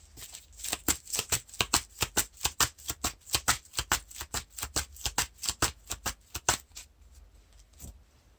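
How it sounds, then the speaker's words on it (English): A deck of game cards being shuffled during a card game session, producing a long run of crisp riffling bursts in a steady rhythm, close and fairly quiet, tapering off near the end. "Now we're shuffling the Eagles of the North."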